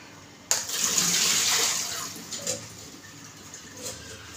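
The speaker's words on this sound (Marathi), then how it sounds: "आपण कापल्यानंतर पाण्यात टाकायचा, मग आपल्याला असं गाळून घ्यायचं आहे" Soaked bottle gourd pieces drain through a strainer in a home kitchen, water pouring and splashing loudly at first, then trickling and dripping more faintly for several seconds.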